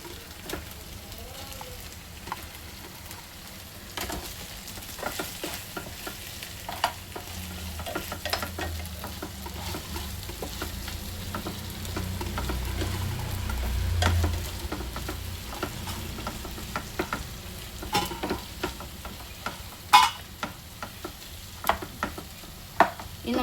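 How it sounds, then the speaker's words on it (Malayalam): Fried chicken lollipops are tossed into Schezwan sauce in a pan. A steady low sizzle swells in the middle, with frequent sharp clinks and scrapes of stirring throughout and no talking. "ഇനി നമുക്ക് നമ്മൾ പൊരിച്ചെടുത്ത ചിക്കൻ ഇട്ട് കൊടുക്കാം"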